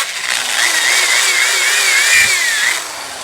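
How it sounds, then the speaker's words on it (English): A close electric drill whines steadily while drilling a plastic Intex hot tub hose part, its pitch wavering slightly as the bit bites, running for a few seconds without talk. "I'm going to use a drill like this."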